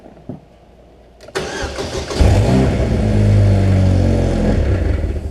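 A car engine, just repaired with a new clutch pedal sensor, cranks after a click, catches and starts, then revs loudly and settles into a steady, close idle.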